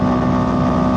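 Steady, loud wind roar buffets the rider on a CFMOTO 700CLX motorcycle running at speed on an expressway, mixed with a constant engine drone, with no voices heard.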